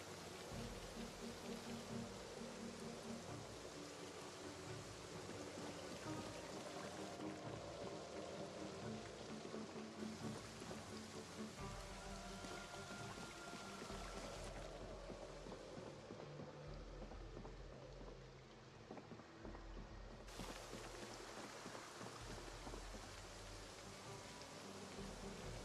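Steady rain pattering inside a building in the zombie survival game Project Zomboid, a dense continuous hiss of drops on surfaces that fills the whole stretch at an even level, with no talking over it.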